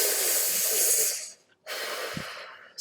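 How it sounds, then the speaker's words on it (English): Two long, deep breaths drawn close to the microphone, each a loud airy rush lasting over a second, separated by a short pause, with a faint click at the end. "Take a few deep breaths first."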